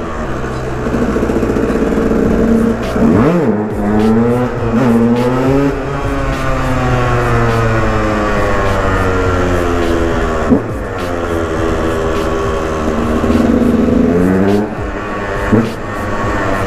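A KTM 125 EXC dirt bike ridden around a parking lot, its engine loud and close, revving up and down in repeated rising and falling sweeps that echo off the surroundings.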